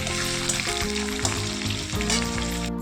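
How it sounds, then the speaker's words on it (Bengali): Chopped onions hit hot oil already seasoned with dried red chillies and black cumin, setting off a loud, close, steady sizzle that fills the whole stretch without any voices. "কুচিয়ে রাখা পেঁয়াজগুলো ফোড়নে ছেড়ে দেবো"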